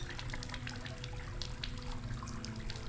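Water runs steadily from a tap in a horror video game asylum, a continuous faint splashing stream with scattered drip-like ticks throughout, no voices over it.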